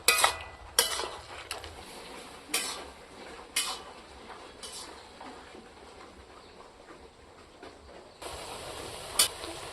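Spoon stirring garam masala and meat spice powder into a vegetarian taro curry in a pot, giving intermittent metallic scrapes and clinks against the pot over a low background hum, with a louder stretch near the end.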